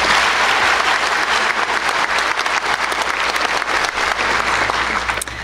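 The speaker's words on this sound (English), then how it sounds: "let's give him a big round of applause." Loud, steady applause from a commencement audience fills the hall without a break, dense clapping holding level throughout before tapering slightly at the very end.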